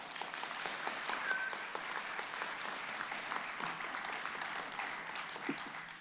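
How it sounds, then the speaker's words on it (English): A large audience at the Trinity Prize 2023 teacher awards ceremony applauds honorees, with steady, dense clapping filling the hall at an even level throughout, no voices standing out. "let's give each honoree a huge round of applause"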